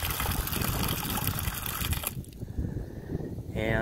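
Steady rushing of water flowing through a venturi siphon fitting into a garden hose, drawing fertilizer from a 5-gallon bucket, a continuous broadband gush that shifts slightly in tone partway through, fairly close.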